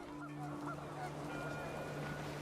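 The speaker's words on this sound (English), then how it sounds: "The wind picked up, and panicked geese appeared and quickly went." Panicked geese honk in a scene from the video game What Remains of Edith Finch, with steady calls layered over a constant windy, watery ambience that runs through the whole stretch.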